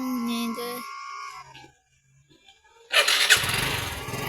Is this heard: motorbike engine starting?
yes